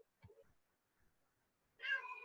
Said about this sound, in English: For those of you who can hear him, that's my cat, Gus.